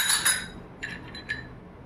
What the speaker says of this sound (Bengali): এই যে একটু আইস দিলাম